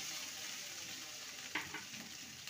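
Parwal and fish curry with chopped coriander sizzles softly in a pan while being stirred, a steady faint frying hiss with one brief scrape of the spoon.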